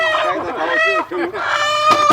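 Chickens at a Thai-Cambodian border market cluck and squawk loudly and continuously, with a rooster-like crow rising near the end, close and busy with no clear talk.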